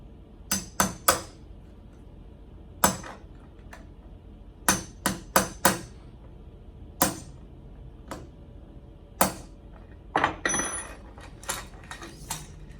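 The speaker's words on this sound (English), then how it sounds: "you can now tap this in a little bit, go straight with a hammer at first" A hammer taps a pin into the link of a side-flexing tabletop conveyor chain, giving sharp metallic knocks close by, alone and in uneven clusters with short pauses between them.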